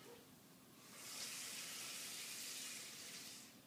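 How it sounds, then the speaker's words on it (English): Water pours into a glass Pyrex dish, a soft, steady gushing stream that swells after a second and runs for a few seconds before easing off, quiet and close with no talking. "I'm just going to put a tiny bit of water in the bottom of the dish,"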